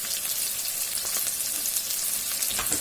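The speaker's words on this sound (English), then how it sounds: "the onions are just sweating in there a little bit" Onions sweating in a frying pan for a vegan stir-fry with leftover rice, a continuous bright sizzle with dense small pops and crackles, close and fairly loud.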